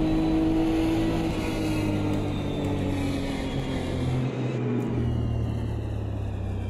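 A Ferrari F512 BB LM race car drives in the Automobilista 2 game, its engine humming at a steady, fairly constant pitch with a deep rumble, close and continuous, dropping briefly near the end before carrying on.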